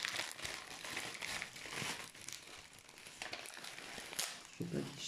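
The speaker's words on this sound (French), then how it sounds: "Je ne vais pas déchirer le papier." Paper wrapping on a parcel crinkles and crumples as it is opened by hand. Irregular crackling bursts come from close by, loud in places and softer in between.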